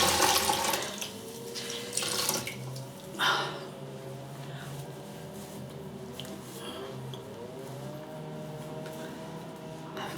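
Tap water runs into a sink while someone wets their face before a shave, with splashing bursts and a steady trickle close by.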